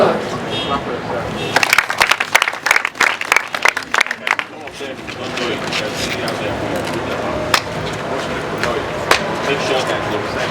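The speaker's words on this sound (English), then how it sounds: "Clap for yourself." A crowd of people clapping at an outdoor gathering during a governor's inspection of a regional water scheme, with a loud burst of dense applause that fades into a murmur of voices and background noise.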